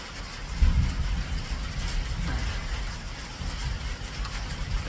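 Steady rain drumming on the roof of a metal building, a continuous wash of noise with low rumbles underneath, heard from inside without any talking.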